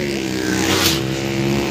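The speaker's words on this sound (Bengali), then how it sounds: "এক এক করে সুপার বাইক আসছে।" Superbikes pass on the road near the Dankuni toll plaza, a loud, continuous engine roar that swells briefly as one goes by close.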